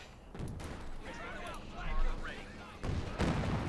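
A Pershing tank fires in Company of Heroes 2, booming blasts with rumbling impacts and scattered battlefield gunfire, heard beneath a caster's running commentary.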